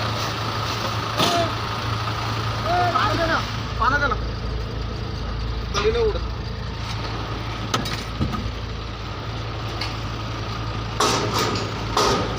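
A garbage truck idles while unloading dry waste of paper, plastic and cloth, its engine a steady low rumble, with scattered clanks and bangs, brief vocal sounds and a few sharp knocks.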